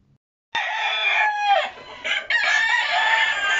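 Rooster crowing loudly and close, one long sustained crow after a brief silence, with a couple of dips in the call but no gaps, at a gallo being shown for a raffle.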